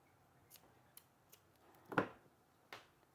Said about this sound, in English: I'm just going to cut as close as we can.